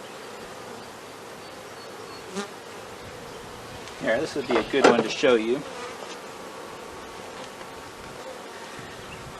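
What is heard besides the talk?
honeybees on a hive frame during inspection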